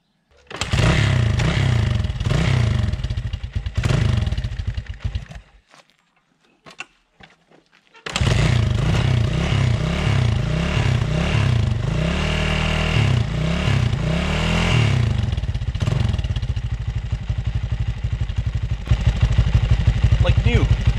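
A Honda XR200 motorcycle engine runs with an uneven, throbbing exhaust note. It cuts out for a couple of seconds, then restarts and keeps running steadily, loud and close.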